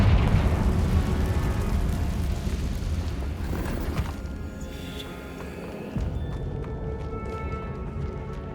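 A fiery Confringo spell bursts in Hogwarts Legacy, opening with a loud roaring blast that rumbles and crackles before thinning out, followed by a second smaller impact near the end.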